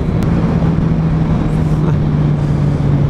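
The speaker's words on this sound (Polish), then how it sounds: "Pokaż Maćkowi, żeby dodał gazu" A steady, droning motorcycle engine runs continuously at a low, constant pitch, loud and close, with no clear rises in revving.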